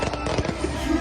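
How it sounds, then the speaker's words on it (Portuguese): Fireworks bursting continuously at a welcome-home celebration in Iporá, a loud, dense crackle of rapid firecracker pops filling the moment with no pause. "Ô, fogos?"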